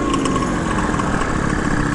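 A 1989 Honda Dio Elite scooter with a big bore stroker kit and AF16 motor swap, its small two-stroke engine buzzing steadily and close up, with slight flutter, in a short continuous run.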